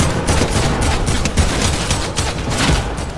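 Rapid continuous gunfire from a player's weapon in Fortnite Battle Royale, loud and dense with repeated shots running through the whole clip without a break.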